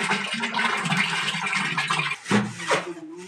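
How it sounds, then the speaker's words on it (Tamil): Water pours and splashes steadily into a container of cow dung to dissolve it, a rushing liquid sound with brief dips and surges. "இப்போ மீதிக்கு வந்து தண்ணி ஊற்றி கரைக்கிறோம் சாணியை நல்லா."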